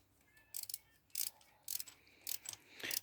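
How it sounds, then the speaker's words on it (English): A ratchet wrench tightens the rocker cover bolts on a Rover 75 K-series engine, giving five short bursts of crisp clicking separated by brief pauses, close and fairly quiet. "we're now just torquing up the bolts in the rocker cover to their torque settings"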